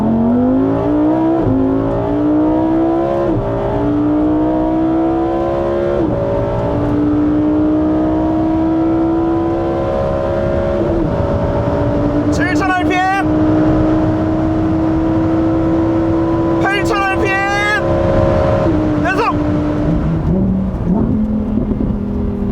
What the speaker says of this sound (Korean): 자, 일단 코르사 모드에서의 배기 사운드 먼저 들려드리도록 하겠습니다.